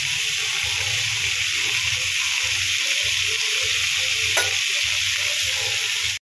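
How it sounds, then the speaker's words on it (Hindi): Cluster beans (guar) sizzle and fry with spices in hot oil, a steady loud crackle with stirring scrapes throughout and no voices. "बस ऐड करेंगे ग्वार या ग्वालिन जो भी बोलना चाहे बोल सकते हैं, बस इसको ऐड कर देना है।"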